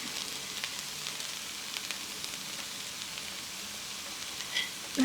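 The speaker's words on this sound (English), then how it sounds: "I'm going to put some bacon on top of it" Bacon sizzling in a pan laid over fried cabbage and potatoes, a steady close crackle with scattered pops and a brief clatter at the end, no talk.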